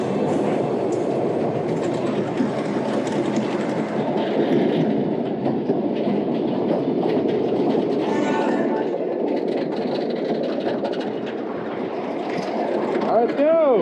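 Texas Stingray roller coaster at SeaWorld San Antonio rumbles and clatters along the track in a loud, continuous roar of wheels and wind, with a brief metallic squeal near the end.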